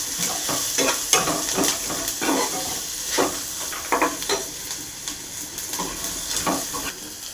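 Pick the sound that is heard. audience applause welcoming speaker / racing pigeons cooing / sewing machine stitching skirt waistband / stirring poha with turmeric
stirring poha with turmeric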